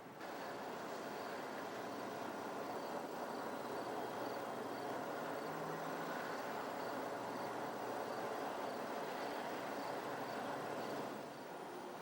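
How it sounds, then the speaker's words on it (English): A Burlington Northern passenger train running backwards through a Chicago station, a low steady rumble of engine and rolling cars at moderate distance, constant throughout with no voices. "Minutes later, we see the train running backwards toward the south end of the station."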